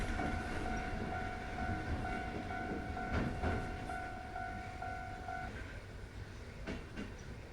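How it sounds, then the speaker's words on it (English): A train rumbles past a railroad crossing in a video game, a steady rolling roar with a crossing bell's sustained tones and a few clanks, moderately loud and alone without talk. "Hello, train."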